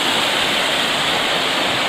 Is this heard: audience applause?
no